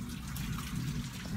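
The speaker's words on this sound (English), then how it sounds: "It's raining, and you know what rain means." Steady rain falling on a stormy, thundery day, a dense, close hiss of drops on a surface with no pauses, heard alone.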